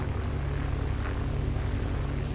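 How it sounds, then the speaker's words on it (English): A plane taxies slowly in Microsoft Flight Simulator X, a steady, loud engine and propeller drone holding throughout, with one short click partway through. "This plane is so slow at taxiing."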